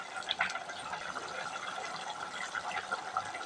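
Dried fish curry simmering in a covered pot, a soft continuous bubbling and faint popping close by, steady throughout with no talking.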